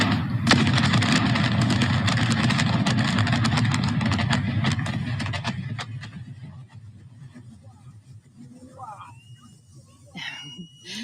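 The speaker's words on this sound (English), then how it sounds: "This is the sound of its controlled implosion a little while ago." A controlled implosion brings down the Capital One Tower in Lake Charles, Louisiana, a loud, broad rumbling roar that sustains for several seconds, then fades into lower distant rumble and crowd noise toward the end.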